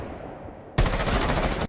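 Rapid, loud bursts of Kate rifle gunfire in a video game erupt suddenly after a quiet moment, a fast continuous volley of close shots that cuts off sharply.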